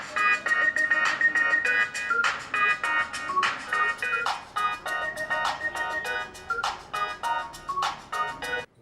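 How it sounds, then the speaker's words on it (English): A melodic ringtone-like tune plays through the speakers of Honor 5X and LeEco Le1S smartphones, a bright chiming melody of repeated rhythmic notes, fairly loud and alone with no talking. "Here is a sample audio test of both these phones."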